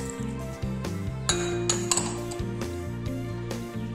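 A teaspoon of black peppercorns tipped into a dish for rasam, producing small, sharp clinks and a light rattle as they land, with background music playing throughout.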